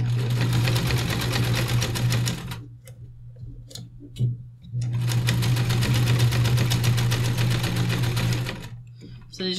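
A sewing machine stitches a pleated fabric face mask fitted with a nose wire, running in two long steady bursts with a rapid mechanical hum and ticking, separated by a short pause with faint handling noises.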